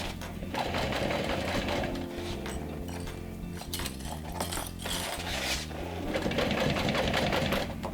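A sewing machine stitches a backpack seam, running continuously and loudly up close with a rapid mechanical chatter throughout.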